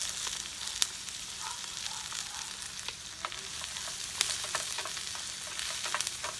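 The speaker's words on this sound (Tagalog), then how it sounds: "So isunod na natin yung sibuyas. Sama na rin natin yung bawang." Onion and garlic fry in a pan at a backyard cooking spot, a steady close sizzle with scattered pops and light stirring.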